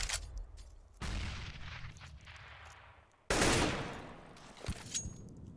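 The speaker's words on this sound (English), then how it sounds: "It's going to be Dupree taken down by the AK." AK rifle bursts in a Counter-Strike match, with two sharp loud onsets of rapid gunfire that ring out and decay, separated by a brief lull, plus a few later smaller shots.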